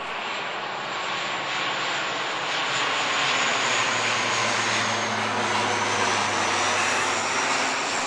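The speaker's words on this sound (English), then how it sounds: "here comes a plane to ruin this video" A propeller airplane passes overhead, its steady engine drone building and holding loud across the whole stretch with no talk over it, low hum under broad roaring noise.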